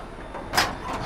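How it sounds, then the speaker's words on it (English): An old VW Beetle's door, rebuilt with hidden hinges, swings open with a short mechanical clunk and creak at close range, set against low workshop background noise. "Well, watch this when I open the door."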